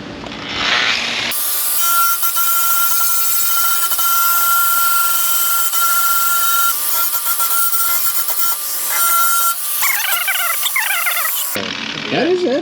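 A grinder works a dent out of a car body panel with a harsh, high-pitched whine that holds steady for about ten seconds, close and loud, then stops abruptly.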